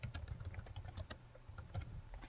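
Quiet typing on a computer keyboard, a quick irregular patter of soft key clicks entering a name, faint and close over a low background hum, with no speech.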